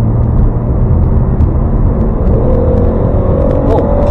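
A Rover 75 automatic kicks down on a dual carriageway, its engine note rising steadily under a constant loud cabin rumble with a faint climbing whine.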